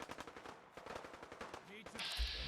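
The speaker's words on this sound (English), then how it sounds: "Do hear gunfire over here, though." Rapid bursts of automatic gunfire crackle in Fallout 4 as raiders fight Minutemen, quick rhythmic shots that fade in and out at a distance, with a faint electronic tone near the end.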